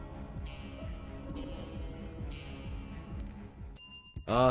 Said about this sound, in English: He's using the bell.